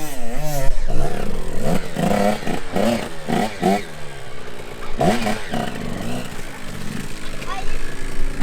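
Dirt bike engine sputtering and revving in short bursts as kids try to ride through mud and stall, with voices talking over it throughout.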